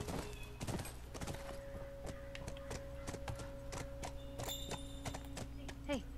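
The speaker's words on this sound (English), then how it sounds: "Can you jump that, horsey?" Horse hooves clip-clop in The Last of Us video game, a steady walking rhythm of mid-loud hoof beats over a faint ambient game background.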